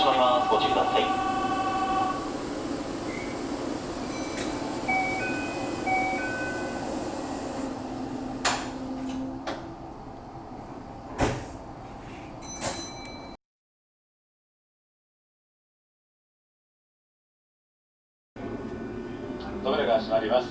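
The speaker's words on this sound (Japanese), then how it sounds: "扉が閉まります。ご注意ください。" Door-closing sequence on a Kintetsu limited express train in Japan, with a chime and recorded platform announcement over steady station hum, then a sudden gap of silence before platform ambience returns.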